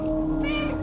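A short, loud cat meow sounds in the video game Stray, a single call over a steady low hum.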